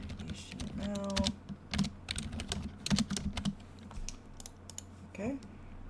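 Rapid computer keyboard typing while entering HTML code, bursts of close key clicks with short pauses, accompanied by a few faint tonal blips and a voice talking briefly.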